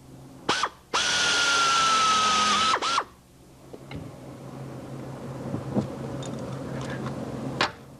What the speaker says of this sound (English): Now we're going to back drill.